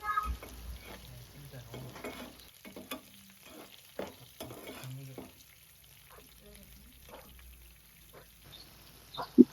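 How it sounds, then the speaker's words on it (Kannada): Raw food frying in hot oil in a home kitchen, a steady crackling sizzle broken by intermittent stirring scrapes and clinks, moderately close, with no talking. "ಇದು ಹಸಿಯಾಗಿರೋದ್ರಿಂದ ಚೆನ್ನಾಗಿ ಫ್ರೈ ಮಾಡಬೇಕು"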